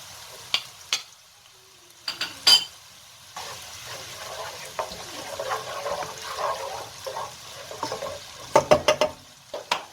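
Minced green pepper sautés in a pan, a soft intermittent sizzle broken by sharp spatula clicks and scrapes, with a cluster of quick knocks near the end.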